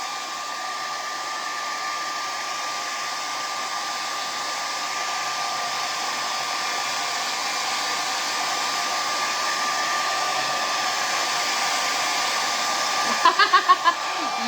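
A hair dryer runs steadily at close range while a handmade craft gift dries, a constant whooshing blower tone with a few light clicks near the end.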